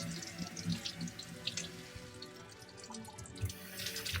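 Water runs steadily from a sink tap while jewelry is rinsed off, a continuous splashing stream with small drips, close and alone without any talk.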